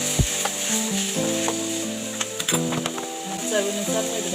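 Green tomatoes hit a pan with turmeric and sizzle under a soft crackle, with scattered clicks and knocks of a utensil and faint tonal background sounds throughout.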